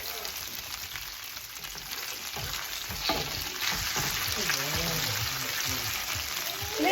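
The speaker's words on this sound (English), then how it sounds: "And I'm gonna add 3-4 cloves of garlic, chopped, little bit big slices. Saute that." Garlic cloves cut in big slices and curry leaves sauté in a pan, a steady close sizzle and crackle with scattered stirring, mixed with some low voice-like sounds.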